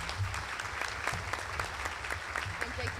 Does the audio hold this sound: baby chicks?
no